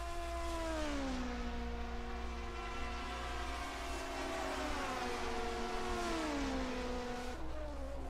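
Division 2 racing cars of the 1979 DRM race down the straightaway in the closing laps of round 10, engines droning loudly and sliding down in pitch through repeated gear changes as each car passes.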